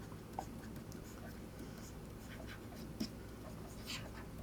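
Pen or marker strokes scratch across a writing surface in short, faint bursts with a couple of sharper taps, close by and continuous for a few seconds with no talking.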